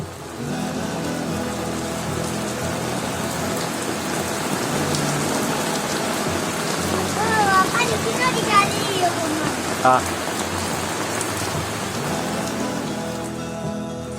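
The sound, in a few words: heavy rain falling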